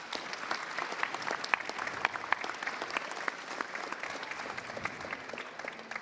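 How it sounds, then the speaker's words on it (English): A conference audience claps for a panel on civil service transformation, a steady mid-distance round of applause with sharp individual claps standing out, and no speech over it. "Could I ask you to give a big round of applause for our panellists?"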